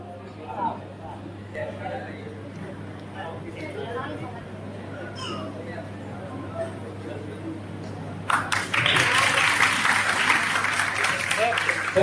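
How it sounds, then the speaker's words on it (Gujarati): An audience at a felicitation event in Dholka, Ahmedabad district, bursts into loud, dense applause for an honoree, following several seconds of room chatter and speech. "જોરદાર તાળીઓથી બિરદાવે રુદ્રાક્ષીને"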